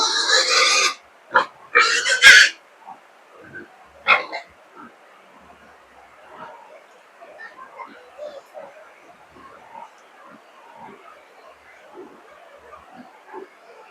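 Pigs on a small farm give several loud squeals and grunts at the start, followed by quieter scattered grunting and shuffling, with a person speaking in between.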